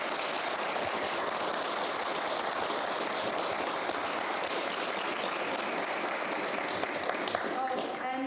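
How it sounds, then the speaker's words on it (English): Sustained round of applause from an audience at a Cambridge Union talk with Greenpeace UK executive directors, dense steady clapping throughout, with a voice briefly audible near the end. "please join me in giving them a round of applause"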